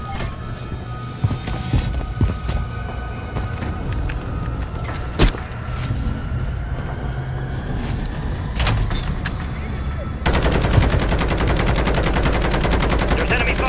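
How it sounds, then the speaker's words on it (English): Enemy gunfire in Call of Duty: Modern Warfare 3, scattered sharp shots over a dense, noisy battle ambience that swells into a louder continuous roar near the end. "There's enemy fire!"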